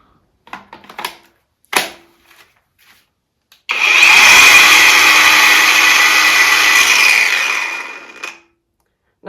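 A cheap battery-powered angle grinder spins up after a few clicks and taps of handling, running loud and steady with a high whine for several seconds before winding down.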